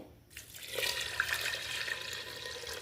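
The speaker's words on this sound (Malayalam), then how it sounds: "ഞാനിപ്പോൾ മൂന്ന് ഗ്ലാസ് വെള്ളമാണ് ഇത് ചേർക്കുന്നത്" Water pours into a pressure cooker of lentils in a home kitchen, a soft, steady trickling stream that starts after a brief pause and keeps running at a low, even level.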